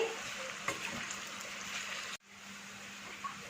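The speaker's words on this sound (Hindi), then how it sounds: "4-5 मीडियम साइज के प्याज से इसे बारीक कटिंग कर लिया है ऑयल में डाल देंगे।" Four or five finely chopped medium onions frying in oil in a pan, a steady close hiss of sizzling with a brief dip partway through.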